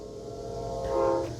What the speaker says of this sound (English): This is going to be the auto train